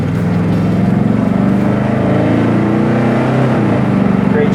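A classic Chevy Nova drives past or along, its engine giving a loud, steady low rumble that holds an even pitch throughout, with no talking.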